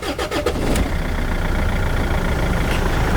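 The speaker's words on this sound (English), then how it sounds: "Start the engine, glow plugs" A Rover 75 diesel engine cranks in a few quick starter pulses, catches and settles into a steady, loud, close idle.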